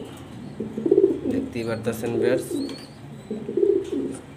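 Pigeons in a loft coo in soft, rolling phrases, several overlapping calls close by, while someone talks over them.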